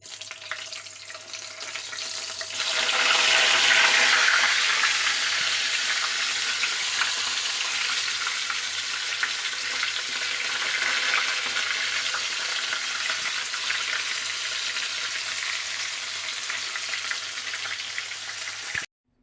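A batch of bitter gourd frying in hot oil, giving a steady loud sizzle that swells after a quieter start and holds constant to the end with no talking.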